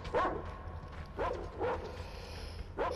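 Dogs barking in the video game Metro Exodus, three or four short yips spaced about a second apart over a low, steady rumble.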